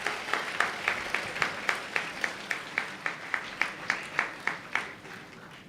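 Audience at a New Horizon College of Engineering panel discussion on artificial intelligence, a single set of hands clapping in an even rhythm about three times a second, faint and roomy, tapering off at the end.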